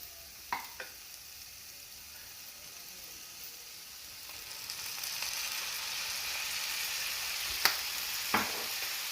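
Eggplant and beef fry in a pan as soy sauce goes in, giving a steady close sizzle that swells louder partway through, with a few faint clinks and stirring scrapes and no talking.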